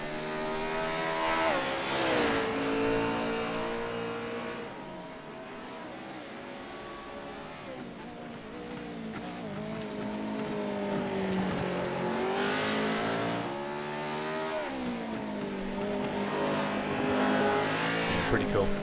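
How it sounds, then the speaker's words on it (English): Toyota GR86 race car lapping a track in a sim racing game, engine revving up and down through gear changes in a continuous loud whine, with a commentator talking over it. "Here's Russell Paul out on track."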